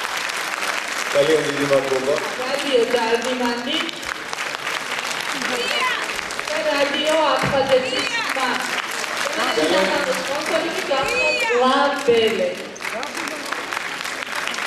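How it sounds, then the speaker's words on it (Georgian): An audience at an evening event breaks into loud, sustained applause with scattered cheers, while an announcer speaks over the clapping through most of it. "ტაში გვინდა ამ შემთხვევაში"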